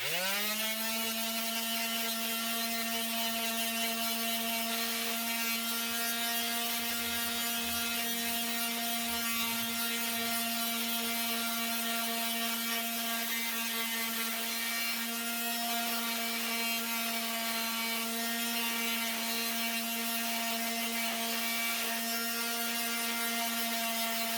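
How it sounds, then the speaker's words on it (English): Steady, continuous abrasive rubbing with a strong sustained tonal ring, close and unbroken throughout: the metal sole of a golf wedge being sanded by hand. "now that quick bit of sanding"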